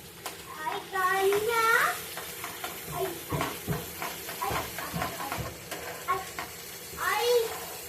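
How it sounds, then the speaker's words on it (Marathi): Chicken with curd and red chilli powder sautéed on a tawa over medium heat, giving a soft sizzle and scraping stirs under a person talking throughout. "हे अगदीच मीडियम गॅसवर सगळं परतवून घ्यायचंय आपल्याला."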